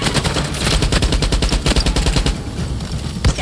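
Rapid automatic gunfire from a Far Cry game, a near, loud burst of repeated shots that keeps a steady rhythm, thins out briefly and ends on one heavier blast, with no talking.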